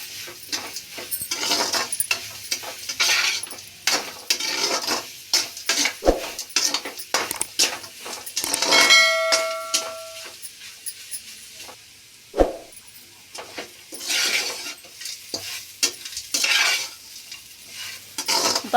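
A spatula repeatedly scrapes and stirs a carrot and rice mixture in a hot frying pan, with rhythmic metallic scraping over a steady sizzle, a few sharp clanks and one brief ringing tone partway through.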